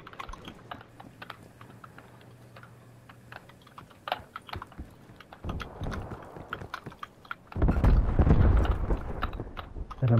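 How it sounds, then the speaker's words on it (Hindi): Computer keyboard keys clatter in rapid, uneven bursts, starting quietly and turning louder and harder toward the end, with a faint hum underneath. "कीबोर्ड इतनी जोर से कट कट कट कट करते हैं"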